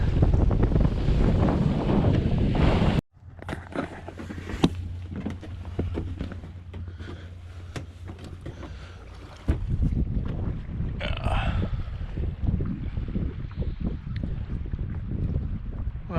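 Strong wind buffets the microphone aboard a sailboat heading to the Florida Keys, a continuous roar with rushing water and hull noise, briefly dropping to a quieter stretch before the gusts return.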